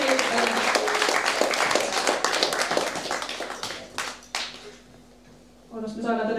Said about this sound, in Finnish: Antakaa aplodit.